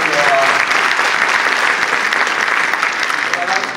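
Sustained audience applause fills a forum on poverty in Michigan, a dense, loud wash of clapping with no break, crowd noise underneath.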